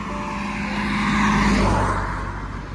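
A car rushes past on a rainy road in Odisha, its engine and tyre hiss swelling to a loud close peak midway and fading, over a constant wash of rain.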